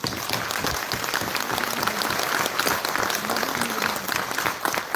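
Dense, steady audience applause fills the hall at a live business event in Malaysia, many hands clapping continuously at an even level for the whole stretch, with no break or fade.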